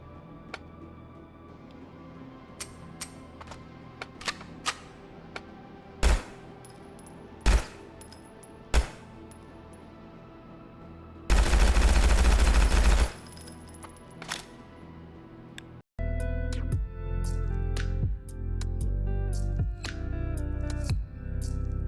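Guns fire in the Hard Bullet VR game: scattered sharp single shots and clicks, then a dense loud burst of rapid fire. After a brief cut, a busier stretch of shots plays over a heavy continuous rumble.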